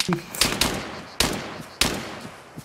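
Enemy gunfire in the Arma 3 video game: three or four sharp, loud reports arriving in separate bursts, each with a ringing tail that fades before the next shot.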